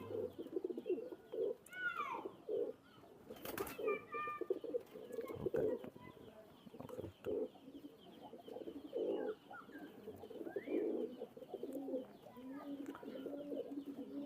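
Young adult teddy pigeons, a fancy breed still moulting, coo steadily in a loft, a soft, throaty rumbling chorus that goes on throughout, with a few clicks and sharp knocks and occasional brief voices.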